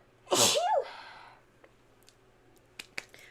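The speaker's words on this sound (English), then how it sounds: "I gotta sneeze." One loud, sharp human sneeze bursts out close by, followed by a few faint clicks and taps in a quiet room.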